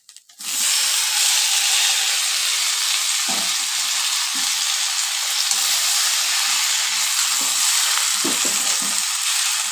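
Mixed vegetables that were fried earlier are stirred into a cooked-down spice paste in a pan, giving a loud, steady, continuous sizzle and hiss with intermittent stirring scrapes and clatters and no voice.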